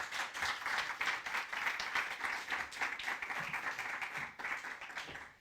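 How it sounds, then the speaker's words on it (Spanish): An audience at a book presentation applauds steadily for several seconds, a faint and fairly distant wash of many hands clapping, unbroken throughout. "Les pido un aplauso para Andrés"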